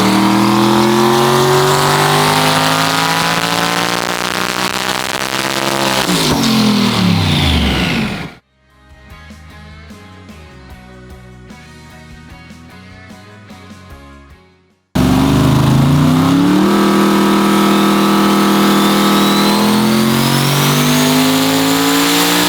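A race car engine runs on a dyno: a loud, close wail that sweeps up and cuts off abruptly, a quieter lumpy idle for several seconds, then a second full-throttle roar climbing in pitch.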